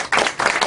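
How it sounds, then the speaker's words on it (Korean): An audience claps for a lecturer at a talk, a brief burst of close, crisp handclaps in quick rhythm. "감사의 박수를 올려드립니다"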